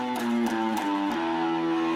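A flat fifth chromatic passing note within a guitar riff, played on guitar: a few short picked notes sliding into a sustained ringing tone, close and clear.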